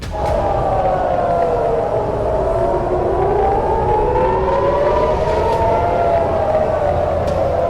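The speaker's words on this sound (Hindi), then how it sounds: "सायरन लगातार गूंज रहे हैं।" Air raid sirens wail across Tehran, a loud continuous rising and falling tone that sweeps slowly up and down, with faint crowd noise beneath.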